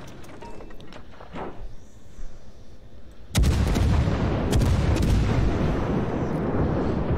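Warship main guns fire armor-piercing shells in World of Warships, a sudden loud booming salvo that cuts in partway through and rumbles on heavily, after a quieter stretch of ambient game sound.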